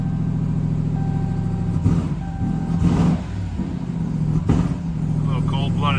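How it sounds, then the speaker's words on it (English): A Ram TRX pickup with a supercharged V8 Hemi, run cold, revs in a few throaty bursts that rise and fall over a steady idle rumble, recorded from inside the cab with people talking now and then. "Let's get in this bad boy and see what the V8 supercharged Hemi sounds like."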